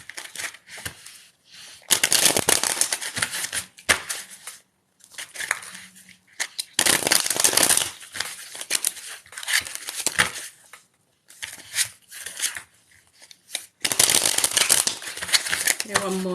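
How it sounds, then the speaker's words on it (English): Tarot cards are shuffled in several loud, rustling bursts separated by short pauses, close to the microphone. "One more shuffle."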